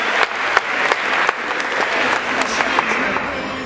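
A full, loud round of applause from the audience for the contestants at a college pageant-style event, steady and continuous with occasional sharper individual claps standing out.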